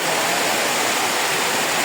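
Heavy rain pours onto a tin shed roof, a dense, loud, unbroken roar of water with no gaps or separate drops standing out.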